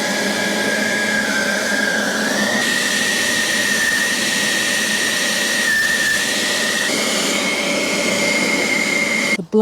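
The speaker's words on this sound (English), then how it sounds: "Blower just gets the worst of it off, a very powerful one." A very powerful blower drying a freshly washed motorcycle roars continuously and loudly, a steady rushing airflow with a high whining tone on top that shifts slightly in pitch, cutting off abruptly at the end.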